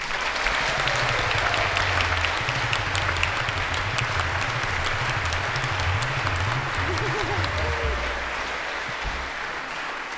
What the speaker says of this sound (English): can we have a, a, round of applause for Snape Maltings, please?